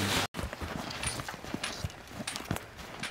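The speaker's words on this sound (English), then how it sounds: "Watch out, horses." Horses' hooves clip-clop outdoors in an irregular, moderately close series of hard knocks, with faint background noise and no speech.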